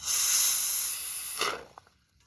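Gap-filling foam sprays from an aerosol can in a close, loud, continuous hiss lasting about a second and a half, then cuts off, followed by a few faint sputters and clicks.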